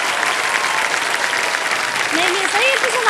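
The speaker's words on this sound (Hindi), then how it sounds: "सब लोग खड़े होकर के ताली बजाने तैयार हैं।" A studio audience applauds on a television quiz show set, a dense and continuous wash of clapping with a voice speaking faintly beneath it toward the end.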